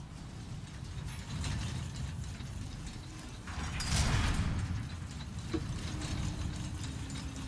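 A large elevator in Demon's Souls Remake grinds and ratchets as it descends, a continuous mechanical churn of gears with a brief louder swell midway, heard without talk.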